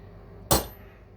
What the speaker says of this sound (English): Now I've actually got room to hit with a hammer.